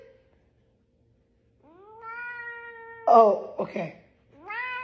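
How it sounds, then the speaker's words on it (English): A pet cat gives one long, rising, drawn-out meow at close range, followed by a person briefly speaking and then the start of another meow. "want to go see my cats?"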